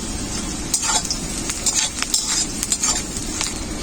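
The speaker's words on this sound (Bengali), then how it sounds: "কাজু বাদাম আর পেঁয়াজ একসাথে খুব ভালো করে ভাজা হয়ে গেছে" A thick onion and cashew paste fries in a pan with a steady sizzle, broken by scraping and clinks as a utensil stirs it.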